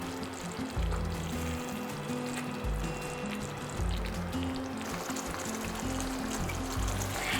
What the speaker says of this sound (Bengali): গ্রেভি একদম ফুটে উঠেছে। এখানে দিয়ে দেব ভেজে রাখা মাছ। এরপর এইভাবে একটু নাড়াচাড়া করে দিচ্ছি।